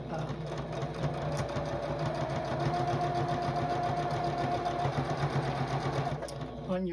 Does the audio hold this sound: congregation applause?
no